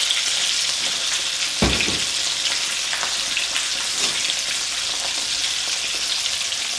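Garlic chicken wings sizzle steadily in a pan over high heat, a loud, continuous broadband frying hiss with a few brief pops and crackles as they sit undisturbed to crust.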